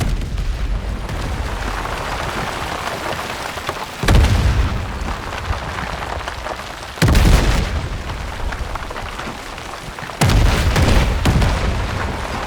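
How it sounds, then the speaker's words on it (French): Mortar shells exploding in the Battlefield 6 campaign, three heavy booming impacts spaced a few seconds apart over a constant roar of battle, loud and close. "Mortier! À couvert!"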